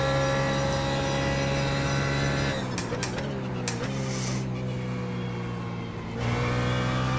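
A race car engine at full throttle in a racing simulator, Project CARS, Assetto Corsa or iRacing, droning steadily and loudly, briefly dipping with a few clicks before the high revving whine returns.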